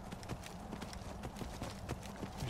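Horse hooves clip-clopping at a steady gallop in the video game Skyrim, a rapid even rhythm of hoofbeats close and loud throughout.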